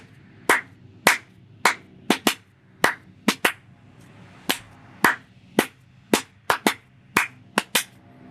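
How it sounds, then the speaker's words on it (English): Sharp hand claps beat out the rhythm of the Imperial March, about fifteen crisp, close claps in an uneven marching pattern, heard alone with no talking. "if you remember anything like Imperial March, for example, if I just clap this to you"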